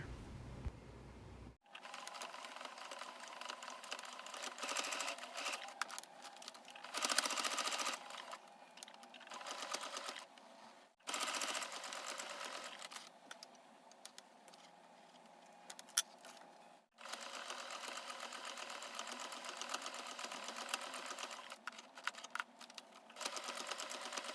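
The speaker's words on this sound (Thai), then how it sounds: "เนาเสร็จแล้วก็นำไปเย็บค่ะ" A sewing machine stitches a curved-frame purse from a Daiso 95 mm frame kit, running in long buzzing bursts separated by brief pauses, close and steady throughout.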